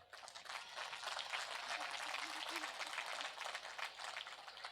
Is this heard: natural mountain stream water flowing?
no